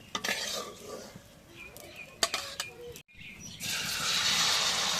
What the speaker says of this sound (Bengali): দেখতে হবে তো ডিমটা ভাজছে কে